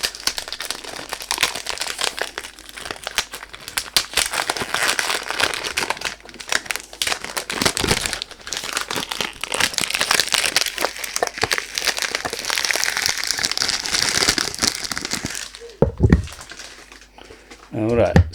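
Crinkly packaging rustles and crackles almost continuously as a Rasasi La Yuqawam Tobacco Blaze 75ml perfume box is unboxed, with sharp close handling noises and a few louder thumps near the end.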